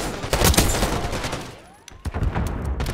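Loud bursts of gunfire in a Call of Duty: Black Ops 6 match, with dense overlapping shots that pause briefly and then resume with several sharp blasts.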